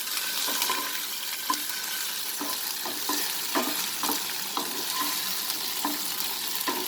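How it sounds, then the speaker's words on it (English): Onion chicken fry being stirred in a hot pan, a continuous sizzle broken by repeated scraping strokes of a spoon at an even rhythm, close and fairly quiet with no talking. "And I'll just give it a quick stir."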